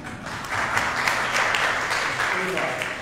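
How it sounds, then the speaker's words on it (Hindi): Applause breaks out from an audience at an Urdu poetry mushaira, a burst of clapping that swells and holds for a few seconds, with voices mixed in. "इनके लिए तालियां।"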